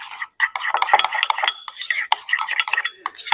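A sauce of mayo, relish, ketchup, paprika, pepper and salt is stirred briskly in a bowl, giving rapid close clinks and scrapes of a utensil that run continuously with no pause.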